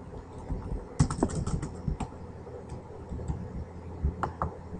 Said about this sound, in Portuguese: Então eu vou digitar aqui o WinRM Quick Config.